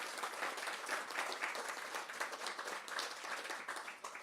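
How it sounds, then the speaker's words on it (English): Audience at a Baltimore mayoral press event on housing upgrades for seniors claps together, a moderate, steady patter of many hands heard at some distance, continuing evenly with no speech over it. "Let's all give ourselves a round of applause."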